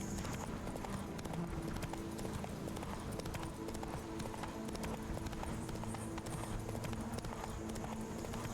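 Horse hooves clip-clop steadily in The Witcher 3, a continuous even rhythm of hoofbeats over a dense game soundscape, moderately loud throughout with no talk.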